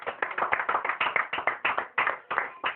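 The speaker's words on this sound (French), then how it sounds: "Applaudissons pour le Seigneur Jésus" A church congregation claps in unison at a worship service, a steady run of sharp, close handclaps in a regular rhythm with no talk over it.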